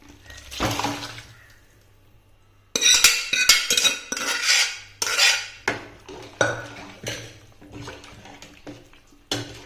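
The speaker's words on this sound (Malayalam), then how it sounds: "നമുക്കിതിന് ഈ കടല ഇതിനകത്തോട്ട് ഒഴിച്ചു കൊടുക്കാം." Boiled chickpeas poured into curry gravy in a pot, then stirred, with repeated scraping and clanking of a spoon against the pot in uneven strokes, close and clear.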